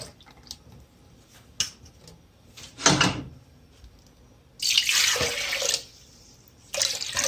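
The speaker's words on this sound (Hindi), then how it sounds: "अब इसमें पानी थोड़ा सा डाल के इसको भी अंगाल लेते हैं, इसमें डाल देते हैं।" Water pours in a few short splashing bursts, the longest lasting about a second, as a little water rinses out a container into a pot for karhi, with quiet clinks and handling noises between them and no talking.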